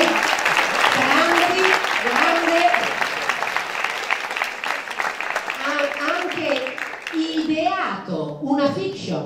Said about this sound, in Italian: intanto un applauso